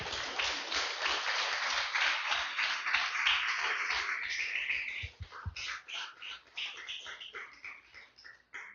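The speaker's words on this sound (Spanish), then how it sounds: "Denle un fuerte aplauso al Señor," A church congregation claps loudly and densely for several seconds, then the applause breaks up into scattered, uneven claps that trail off.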